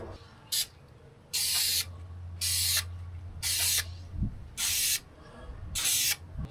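Spray paint hisses onto a guitar pickguard in six short, even bursts with brief pauses between them, close and loud, no voices.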